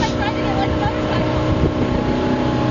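A motorboat towing a tube roars steadily at close range, engine drone mixed with wind buffeting, while voices talk over it.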